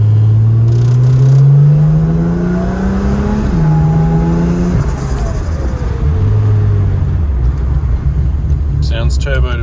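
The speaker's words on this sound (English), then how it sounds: "Sounds turbo to me." A turbocharged RB30 engine in an R31 Skyline revs loudly up close, the pitch climbing, falling and climbing again in a deep rumbling drone, while someone talks over it.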